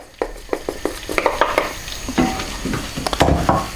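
Flour is stirred into melted butter in a pan for a béchamel, with irregular scraping and knocking strokes of a spoon against the pan over a soft sizzle, close and clear, with no speech.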